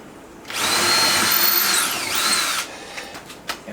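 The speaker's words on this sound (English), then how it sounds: "So this way I can get the screws in there without any problems." Cordless power drill driving screws while upgrading a wagon, one steady high-pitched whir of about two seconds with a pitch dip near the end, close and loud, followed by a few light clicks.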